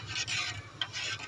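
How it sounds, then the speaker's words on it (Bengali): Packet soup stirred in a pot on a stove, a few soft scraping strokes of a spoon against the pot bottom with a small knock between them, faint and close. "এরকম করে নেড়ে দেবো, না হলে নিচে লেগে যাবে।"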